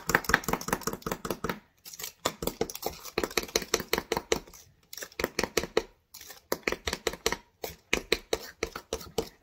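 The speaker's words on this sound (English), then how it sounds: "I'm going to mix the vanilla pudding right in the measuring cup here" Thick vanilla pudding stirred in a measuring cup, a quick rhythmic series of soft scraping clicks with a few brief pauses, close and fairly quiet.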